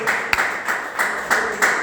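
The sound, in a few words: congregation applauding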